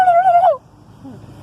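A child imitates a turkey gobble, a short warbling vocal burst lasting about half a second, close and loud, followed by a faint low trailing sound.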